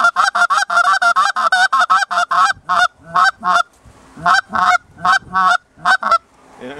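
A human voice imitates a bird's double clucking call, repeating sharp, loud two-part clucks in a quick steady series, then slower, spaced repetitions near the mic.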